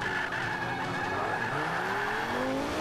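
A Lamborghini drifts in Forza Motorsport 5, its tires squealing in long rising and falling screeches over a steady engine roar, loud and continuous with no voices.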